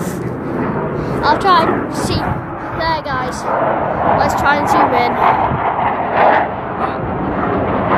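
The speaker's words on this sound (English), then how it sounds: "Sorry about that noise, guys. It's just some jets that are around here." Loud, broad roaring rumble of jet aircraft passing overhead, sustained throughout, with a person talking over it.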